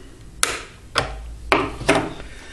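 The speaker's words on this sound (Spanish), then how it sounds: "Cortamos los 2 terminales" Snips of cutters through the two leads of a faulty capacitor on the circuit board of a Krups Nespresso coffee machine, four sharp, distinct clicks spaced about half a second apart, close up.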